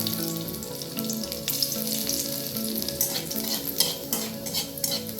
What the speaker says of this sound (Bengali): পটল ভাজার ওই তেলের মধ্যে রসুন টুকরোগুলো দিয়ে দিলাম।